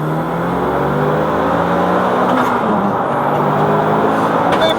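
A Mitsubishi Evo 8 accelerates hard from a second-gear rolling start at about 4,000 RPM, its engine rising in a steady, loud, close drone throughout.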